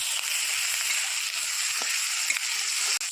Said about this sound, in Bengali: এবার পরিমাণ মতো ঝাল লঙ্কার গুঁড়ো দিয়ে এটা ভালো করে একটু নাড়াচাড়া করে